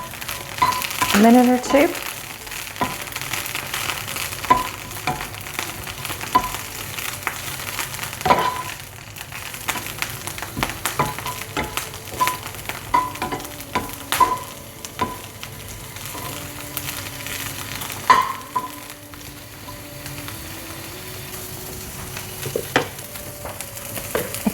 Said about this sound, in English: Pan is heated. Gonna add some broccolini.